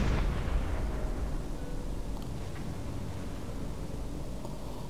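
A shell explodes close to a submarine in Silent Hunter 4, a sharp low boom at the start that decays into a long rumbling roar and wash of noise lasting several seconds, loud and with no voices.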